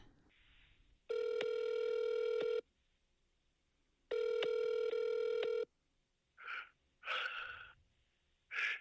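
A telephone call to a horror movie billboard hotline rings twice through the earpiece in long steady tones separated by a pause, followed by faint breathy gasps close on the line.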